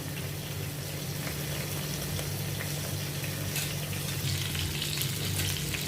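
Stuffed masala chillies fry in a pan over a low flame, giving a steady, even sizzle that stays close and continuous throughout, with no voice over it.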